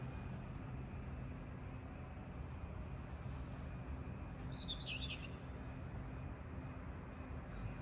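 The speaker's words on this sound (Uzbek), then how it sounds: "Mana shu yerda bitta bulbul sayrab turibdi." A nightingale (bulbul) sings outdoors, a few faint, distant bright chirps and short trills rising over a steady low hum of traffic and ambient noise.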